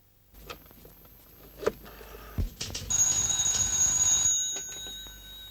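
A telephone rings in a Turkish comedy scene, a bright electronic trill that starts after a few clicks and knocks and sounds loud and steady for about a second and a half before stopping.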